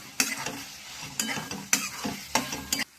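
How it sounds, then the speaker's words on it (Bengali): Potatoes sautéed with spice paste in a pan for soyabean dopeaza: four or five distinct scraping stirs of a spoon against the pan over a light sizzle, close and fairly loud. "এবার আলুগুলো দিয়ে একটু মশলার সাথে কষাই।"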